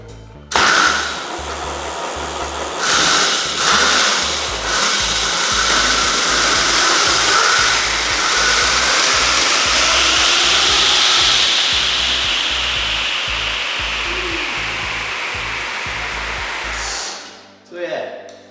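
A 6kW electric bike motor runs under throttle, a steady loud whine with broadband hum and rhythmic low pulsing that holds for most of the stretch before cutting off near the end.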